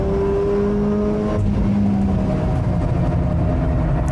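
A race car accelerates at full throttle on a track out of a corner onto the straight, its engine a loud, sustained roar that shifts pitch partway through as it climbs through the revs.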